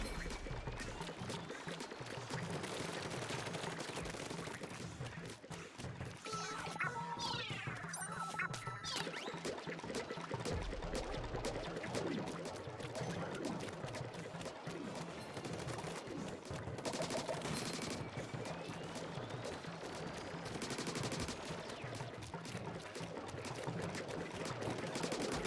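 Splatoon 3 gameplay: rapid, repeated ink-weapon firing sounds rattle on continuously amid busy game effects and music, quiet overall, with no talking.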